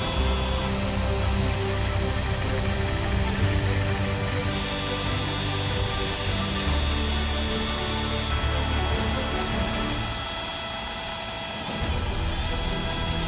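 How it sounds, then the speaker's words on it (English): A cordless DeWalt drill serves as a homemade lathe, whirring in a steady, loud drone with shifting pitch as the workpiece turns; it briefly drops off near the end before resuming. "Introducing the cordless DeWalt homemade lathe."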